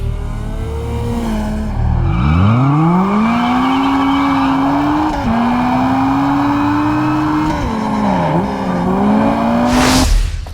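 Fast sports cars race along Hawaiian roads in a driving game, with a loud engine revving up and shifting through gears, tires squealing now and then, and a brief whoosh near the end.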